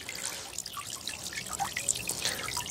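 Water from a solar fountain pump splashes and trickles continuously, a soft, close, bubbling patter with no voices.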